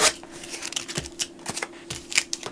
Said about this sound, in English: let me peel my address off